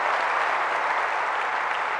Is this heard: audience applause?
yes